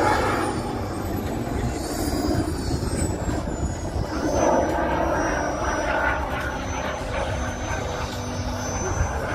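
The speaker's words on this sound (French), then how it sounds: "Et un dernier passage, fumigène allumé, Christophe bat des ailes." A radio-controlled model airplane flies a final pass trailing smoke at a model aviation air show, its engine a steady continuous drone heard at moderate distance amid crowd and airfield ambience.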